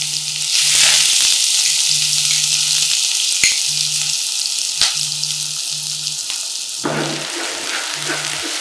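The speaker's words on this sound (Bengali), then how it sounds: "পেঁয়াজটা হালকা ভেজে নেব।" Onions fry in hot ghee with a loud, continuous close-up sizzle and crackle, marked by a few sharp clicks and an intermittent low hum in the background.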